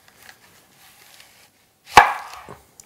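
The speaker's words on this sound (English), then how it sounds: "I'm just going to cut it right down the middle." A knife slices an onion in half on a cutting board: one sharp, close thunk after a near-silent pause, followed by a short fading scrape.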